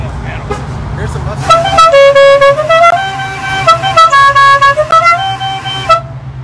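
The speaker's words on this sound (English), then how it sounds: "It has the Dixie horn." A Dixie horn on a Dukes of Hazzard General Lee Dodge Charger plays its loud, melodic multi-note tune twice in succession, close and brassy, over a low engine idle.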